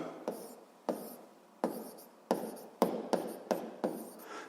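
Pen strokes scratch across paper close by in a series of short, separate bursts, each a quick rasp that fades before the next, quiet and without talk.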